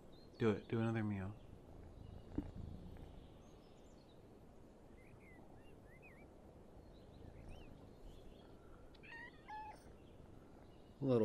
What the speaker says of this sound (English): Do another meow.